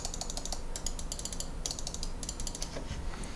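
Rapid, crisp mechanical clicks of HyperX Pulsefire Surge gaming mouse buttons repeat in quick bursts, pressed over and over, close up with faint background hiss.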